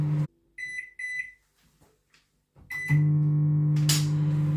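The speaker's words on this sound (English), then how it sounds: "We're going to put it in the microwave" Microwave oven cooking eggs for an omelette: a loud steady hum with beeps from the keypad before it starts running continuously near the end.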